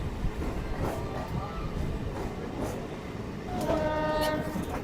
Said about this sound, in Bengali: এই আমাদের ট্রেনটা শিয়ালদা চলে আসলো।